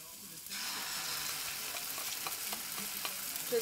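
An egg hits a hot pan beside crispy food and fries with a steady, close hiss and crackle that starts after a brief quiet moment and keeps going evenly with small pops.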